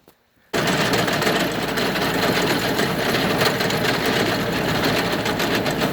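After a brief silence, a rotary tiller engine kicks in while tilling rocky market-garden ground, running steadily with a rapid, rattling chug, continuous and close by.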